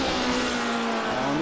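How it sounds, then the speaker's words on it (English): Lotus 79 vintage Formula 1 car in a sim racing game at Silverstone, engine droning steadily at high revs as the car brakes and slides through a corner, loud and continuous. "On the brakes, sliding the car in entry, sliding on exit"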